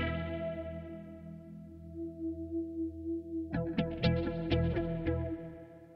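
Electric guitar run through a Walrus Audio Luminary octave pedal set fully wet, sounding like a synth: a long sustained droning chord with a warbling shimmer, then a burst of brighter picked notes and stabs, with reverb and no one talking.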